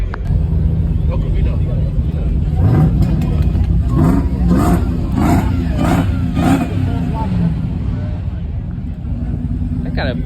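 A car with a Hellcat engine revs loudly nearby at a Caffeine & Octane car meet, a series of rising, pulsing blasts in the middle while onlookers talk excitedly throughout.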